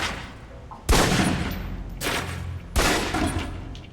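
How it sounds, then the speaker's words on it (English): Three sharp pistol shots ring out at a shooting-range target in the game Alpha Protocol, each a loud crack with a fading echo, spaced roughly a second apart. "Equip the pistol, then aim down range and take some shots at the target"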